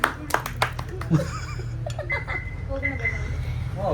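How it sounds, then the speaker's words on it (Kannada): A few quick, scattered handclaps come at the start, followed by talking and light laughter in a casual indoor gathering. "ಚಪ್ಪಾಳೆ"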